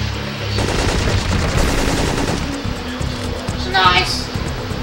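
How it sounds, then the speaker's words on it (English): Gunfire in Syphon Filter 3, loud rapid bursts of automatic weapon fire rattling continuously with a dense, near crackle, layered with game sounds. "Arm the sailors, open fire."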